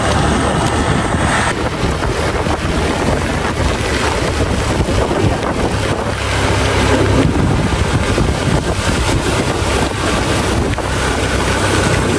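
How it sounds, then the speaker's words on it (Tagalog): Strong wind blows outdoors beside a highway, making loud, continuous buffeting rumble against the microphone for the whole stretch with no talking. "Oh, lakas ng hangin."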